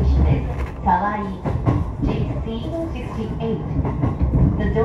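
A Tokyo Adventure Line train rolls overland toward Ome, giving a steady low rumble with rhythmic clickety-clack over the rail joints and a muffled announcement voice partly over the noise.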